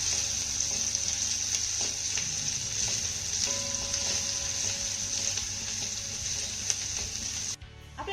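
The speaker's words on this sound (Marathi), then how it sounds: "हा लसूण आपल्याला हलका सोनेरी रंगावरती परतून घ्यायचा आहे" Garlic and grated ginger sauté in a pan with a steady, close sizzle and occasional stirring scrapes that run throughout, with no voices.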